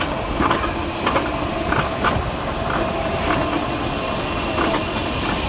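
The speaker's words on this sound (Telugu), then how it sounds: "ఎంత కష్టం ఆ రోలర్ కోస్టర్" Roller coaster ride on the road to Dambri Waterfall near Bao Loc, Vietnam, giving a steady loud mechanical rumble with rhythmic clattering clicks throughout, no voices.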